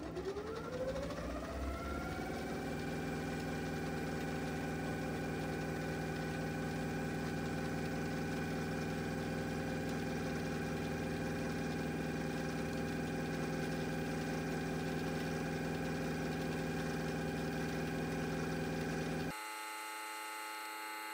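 An electric motor drives a hoverboard motor rigged as a generator on a bench, spinning up over the first seconds into a steady, unbroken mechanical whine with strong tonal hum, then cutting off near the end.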